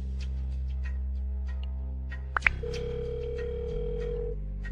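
A steady telephone dialing tone hums continuously while a call is placed, with a higher ringing tone joining partway through. It holds an even level, close and clear, with no voices.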